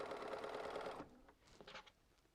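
A quiet sewing machine chain-pieces checker pieces for a poinsettia quilt block, running in a fast steady whir for about a second before stopping, followed by a few faint clicks and handling sounds.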